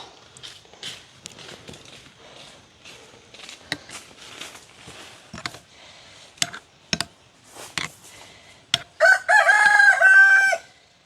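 A rooster crows loudly near the end after scattered clucks and shuffling sounds in a rainy village, the crow rising and holding for about two seconds.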